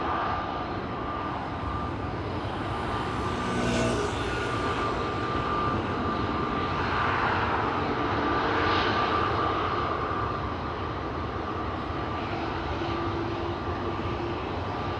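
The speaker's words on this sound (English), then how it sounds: "And over here we have a KLM 737-800 to Nice" A KLM Boeing 737-800 jet departing Amsterdam Schiphol for Nice produces a continuous rumbling engine roar with a faint tonal whine, fairly distant and steady, with a couple of gentle swells and no talking.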